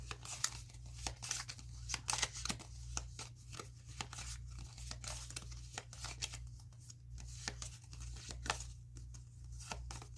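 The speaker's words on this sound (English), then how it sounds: "I'm going to shuffle 3 more times." Tarot cards are shuffled by hand in quick, rapid riffles and taps, faint and close, with a steady low hum underneath and no talking.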